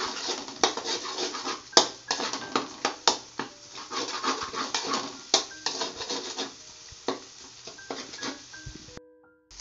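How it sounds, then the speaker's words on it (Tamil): Noodles with egg being stirred and tossed in a pan at home, with repeated scraping, rubbing and clinking of a utensil against the pan in an uneven rhythm, close and fairly loud, no talking. "இப்போ இது எல்லாத்தையும் மிக்ஸ் பண்ணிக்கலாம்"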